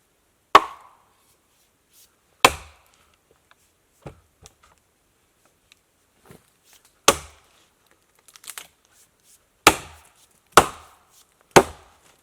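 An axe chops wood at a bushcraft camp with about seven sharp, isolated strikes spaced a second or two apart, crisp and close in an otherwise quiet outdoor setting.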